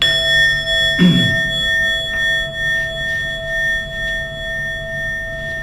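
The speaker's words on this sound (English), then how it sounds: "So I'll just ring the bell just to end the little practice." A mindfulness bell is struck once to close a meditation practice, giving a clear metallic tone that rings on and fades slowly, with a soft thump at the strike.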